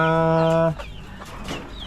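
A single drawn-out, harmonic squawk from a nearby hen in a cage, then softer clucks and rustling in the background.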